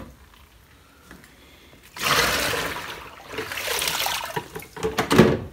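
Running water rinsing washed natural virgin hair, a steady broadband rush that starts after two quiet seconds, surges and swells unevenly with splashing bursts near the end, close and fairly loud.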